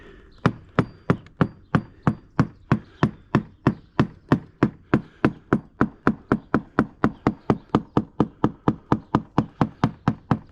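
A screwdriver taps steadily along a boat's fiberglass deck, checking the core for soft spots: about forty sharp, evenly spaced knocks, close and loud, with no voices.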